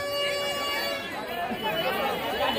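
Crowds at the Mulher Ras Mandal Yatra fair keep up a dense, steady babble of many voices, with music and fairground noise mixed in close by.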